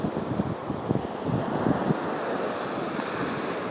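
Steady sea surf at a Sri Lankan beach in the evening, a continuous broadband wash of breaking waves mixed with wind noise on the microphone, fairly close and unbroken throughout.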